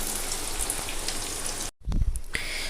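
Onions frying in hot oil for a fish curry, a steady dense sizzle and crackle close by that breaks off briefly, then returns with a few louder bubbling pops and spits.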